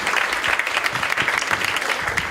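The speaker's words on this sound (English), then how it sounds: "Give yourselves a round of applause." Audience at a comedy show at a bar and grill applauding steadily, a dense continuous clapping that fills the room without pause, with no voices standing out.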